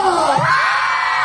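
At a Philippine Independence Day gathering in Hong Kong, a crowd lets out a loud, close burst of whooping, shouting and cheering that rises sharply and carries on without a break.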